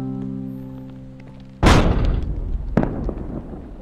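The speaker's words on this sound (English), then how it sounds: "Fire the cannon!" A cannon fires in the video game The Looker: a sudden heavy boom cuts off a steady tone, rumbles on, then a second sharper impact follows about a second later, loud and close.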